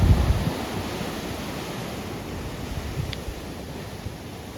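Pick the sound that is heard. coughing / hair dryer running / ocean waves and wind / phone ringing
ocean waves and wind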